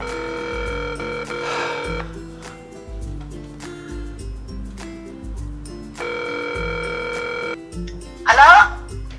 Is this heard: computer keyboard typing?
no